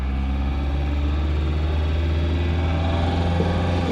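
A 1970s diesel car engine drones low and steady while driving, a constant rumbling hum with even vibration throughout and no voices.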